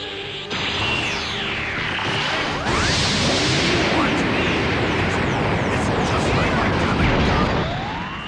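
The Galick Gun energy attack from the Dragon Ball Z Budokai Tenkaichi 3 video game fires as a loud rush of sweeping whooshes and crashing, explosive blasts that build and sustain for several seconds, with a voice mixed into the action.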